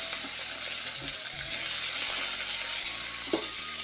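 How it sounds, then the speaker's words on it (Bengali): Capsicum fries in hot oil in a wok, giving a steady close sizzle with a few stirring scrapes and clinks throughout. "আর এখানে দেখো তেলটা কড়াইটা পুরো পুড়ে গেল ক্যাপসিকামগুলো ভেজে নিচ্ছে এবারে"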